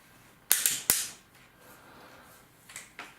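A Manfrotto 290 Xtra tripod mechanism gives several sharp clicks: a close pair, a quiet pause, then two softer clicks, with no talk.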